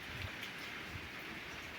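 Rain falls during a storm as a faint, steady hiss of drops with a low rumble beneath it, and no voices are heard.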